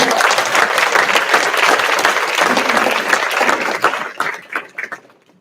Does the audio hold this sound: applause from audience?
yes